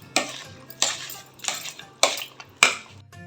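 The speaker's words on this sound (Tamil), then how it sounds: "இதோடு சேர்த்து எல்லாத்தையும் மேஷ் பண்ணலாம்" Apple and pomegranate pieces being mashed for fruit juice in a bowl, five sharp, evenly spaced strikes of a utensil against the dish, close and clear with quiet pauses between.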